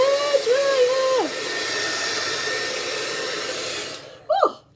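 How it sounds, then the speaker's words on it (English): A hairdryer runs in a bedroom as a steady, close whooshing hiss for about three seconds. A voice speaks just before it starts, and a short vocal sound follows after it stops. "It's a hairdryer."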